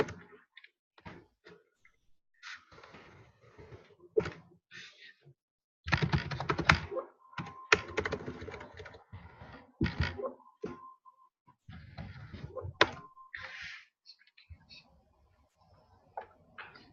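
Computer keyboard keys clatter in uneven bursts while a Ctrl+F search is typed, with scattered clicks and a denser flurry in the middle, mixed with brief bits of nearby talk.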